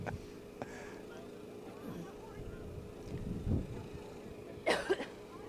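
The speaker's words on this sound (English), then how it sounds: "Sorry about the coughing." A man recovering from flu coughs a few times, with short harsh bursts near the end, while light background noise runs throughout.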